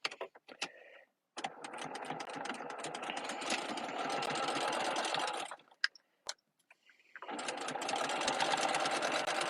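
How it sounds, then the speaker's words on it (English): A sewing machine stitches across a vinyl mesh tote bag in two long, steady runs of rapid close chatter, split by a short pause and preceded by a few brief starts. "And now I'm just going to sew across."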